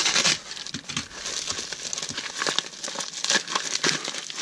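A large plastic package holding a 12-gauge shotgun shell caddy being cut open with a knife; close, steady crinkling and rustling of plastic with sharp crackles and no pause for the whole stretch.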